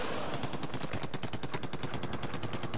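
Rapid bursts of gunfire ring out in a video game as shots rake a crab tank, a steady dense rattle of close, loud reports running the whole time with no talking.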